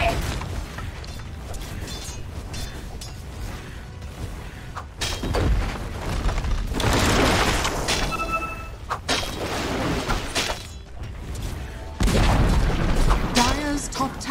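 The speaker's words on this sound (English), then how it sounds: "Dire's top tower has fallen." Explosions, crashes and whooshing impacts in Dota 2 as a tower is destroyed, loud and dense, with several heavy booms and swells of in-game effects.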